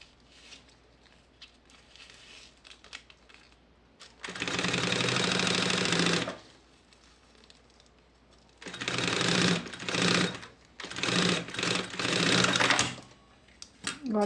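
A sewing machine topstitches a seam on a lunch bag panel in several sustained runs, with a steady loud motor whir between quieter pauses where a person talks.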